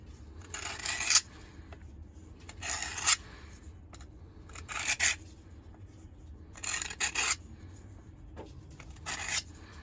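A knife drawn across a Work Sharp guided field sharpener in five or six short, rasping strokes spaced evenly apart, close over a faint background hum.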